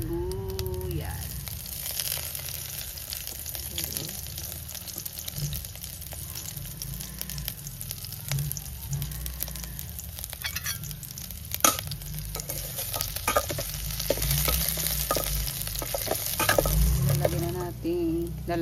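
Garlic and onion sizzle while being sautéed in a pan for ginisang bagoong isda, a steady crackling fry with intermittent stirring scrapes and clinks, close and moderately loud throughout.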